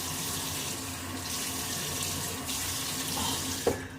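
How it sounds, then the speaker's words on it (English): Water runs steadily from a bathroom tap into a sink during a wet shave with a brush, a continuous close splashing stream that ends with a brief clunk near the end. "Add a little bit more water to my face."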